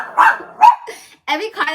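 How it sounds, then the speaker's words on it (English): A dog barks at passing cars in short, sharp bursts, fairly close, mixed in with a person talking. "every car that drives by, he's barking"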